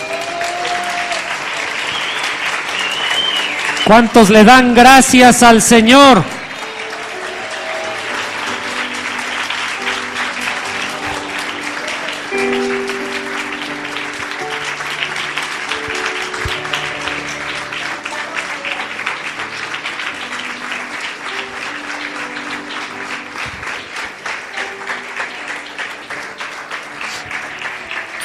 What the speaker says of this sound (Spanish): ¿Cuántos pueden darle un aplauso al Señor?